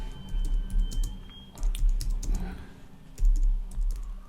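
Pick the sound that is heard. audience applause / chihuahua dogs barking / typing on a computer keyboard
typing on a computer keyboard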